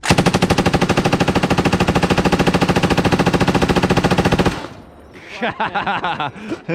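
An M240 machine gun fires at an outdoor shooting range in Las Vegas, one long, loud, steady burst of rapid shots lasting several seconds, then ringing quiet and a few scattered knocks.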